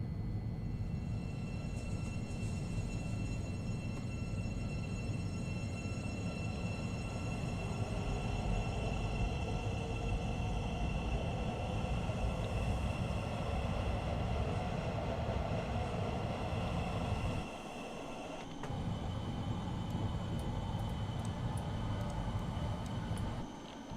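A Class 700 electric train in Train Sim pulls away with a steady rumbling drone and rising whine of traction motors, loud and continuous with a brief dip midway and no talking.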